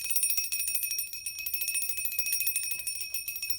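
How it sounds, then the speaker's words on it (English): Small bell ringing continuously with a bright, sustained high tone and rapid shimmering tremor, steady and fairly faint, heard alone without talk. "So this little bell"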